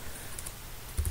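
A computer keyboard, used with an Amiga emulator such as FS-UAE or WinUAE, gives a couple of quick, soft key clicks in a short, quiet moment.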